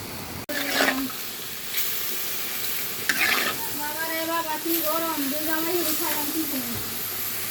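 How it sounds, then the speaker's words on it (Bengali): Leafy greens (shak) frying in a pan, a steady close sizzle with stirring scrapes, over which a voice hums or talks with rising and falling tones. "এটার মধ্যে তো আমি একটা শাক ভাজি করব"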